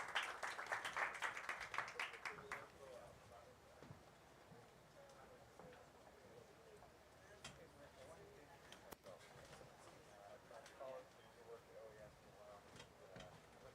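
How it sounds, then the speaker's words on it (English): Applause for panelists at a biodiversity pavilion event during the COP16 conference, a burst of audience clapping in the first few seconds that fades into murmuring room noise and talk. "We're gonna give a big applause to our panelists"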